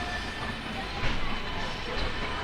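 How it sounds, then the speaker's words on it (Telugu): A steady low rumble of rail machinery comes from the Guntur Intercity express standing at Charlapalli station beside a locomotive, continuous and moderately loud with slight swells. "మన పక్కన ఒక లోకో అయితే ఉంది"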